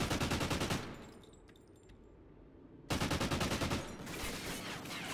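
Loud bursts of automatic gunfire from a first-person shooter game, one burst at the start and another after a short lull, each a fast rattling string of shots.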